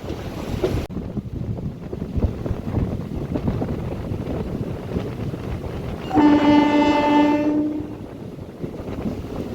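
An empty passenger train rumbles along steadily in heavy rain with wind buffeting the microphone, and a loud horn blast sounds partway through.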